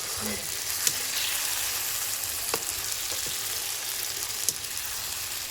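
Oil crackles and sizzles steadily in a pan as mango pieces cook for a chutney, a close, continuous frying hiss with a few sharper pops and no talking.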